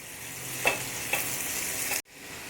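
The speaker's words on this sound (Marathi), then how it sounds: "आता एक चमचा ठेचलेला अद्रक लसूण आपल्याला टाकायचा आहे त्याच्यात, त्याला पण फ्राय करून घेऊ मोठ्या आचेवरच" Crushed ginger and garlic fry on high heat with a steady bright sizzle, two short louder bursts as the pan is stirred, then the sound cuts off abruptly near the end.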